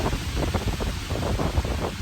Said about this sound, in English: It is a very, very windy day.